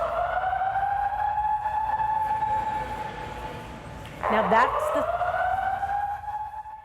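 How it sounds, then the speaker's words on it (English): Emergency alarms sounding inside the Kentucky Expo Center, a sustained wailing electronic tone with a brief burst of added noise partway through, heard at moderate level while a voice speaks. "that is the sound of emergency alarms going off inside the Kentucky Expo Center"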